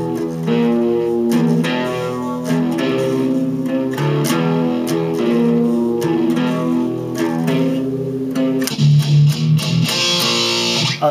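A distorted electric guitar plays a repeating chord riff, steady and loud, with sharp picked attacks and a brief noisy scrape near the end.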